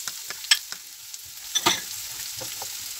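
Garlic and onion fry in a pan with a quiet, crackling sizzle, broken by a few sharp pops and scraping stirs close by.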